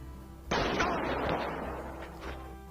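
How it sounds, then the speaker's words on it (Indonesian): Gunfire from a Korean TV series scene: one sharp, loud blast bursts in and then rings out in a long, decaying rumble with a faint second crack near the end, with no voices. "para pemain yang gagal semua ditembak mati"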